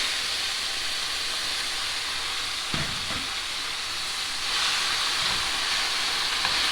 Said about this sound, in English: now we're just going to saute these on low until they wilt